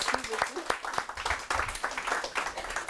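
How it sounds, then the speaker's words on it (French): An audience at a hypnotherapy conference applauding, a brisk spatter of clapping from a modest crowd with talk mixed in beneath. "vous pouvez aussi l'applaudir pour ancrer tout ça"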